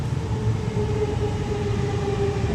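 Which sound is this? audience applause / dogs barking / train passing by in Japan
train passing by in Japan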